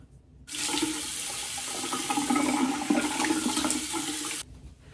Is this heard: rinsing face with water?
yes